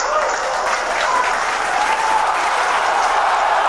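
Applause from an audience fills the space, a dense steady wash of clapping that holds loud and even throughout with no voices breaking through.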